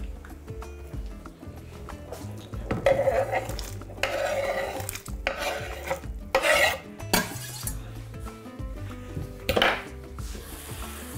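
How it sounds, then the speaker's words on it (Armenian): Meat being tipped into borscht broth in a pot, with clattering and stirring against the metal pan in several loud bursts over a steady low kitchen background. "Միսը նույնպես լցնում ենք արգանակի վրա։"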